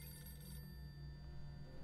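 A telephone rings faintly in the spy video game 007: Quantum of Solace, a quiet electronic tone lasting less than two seconds with no talk.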